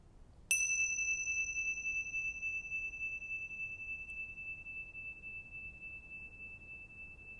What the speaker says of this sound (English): Help you notice the movement of time just by ringing this bell.